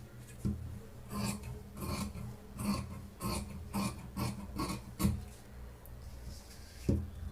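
Scissors cut through fabric for a sleeve pattern in a steady run of rasping snips, about a dozen close strokes, with a soft thud near the end.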